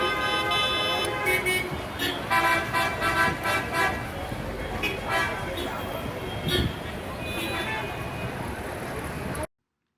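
Busy Cairo street traffic, with repeated car horn toots and honks over a steady roadway rumble, while people talk throughout.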